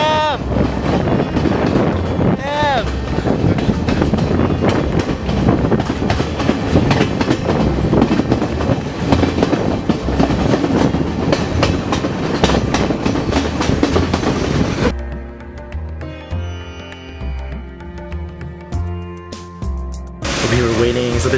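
Steady rumble and rattle of a moving train from Ella to Kandy, Sri Lanka, through hillsides, with rhythmic clatter and wind noise, loud and continuous, quieting briefly near the end.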